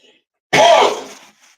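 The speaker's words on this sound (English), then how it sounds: "I'm about to blow my nose, y'all." Someone blows their nose once, close and loud: a single hard, breathy honk that lasts under a second, then trails off.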